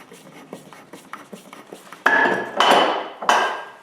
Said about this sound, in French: Je commence par visser le support de métal en place.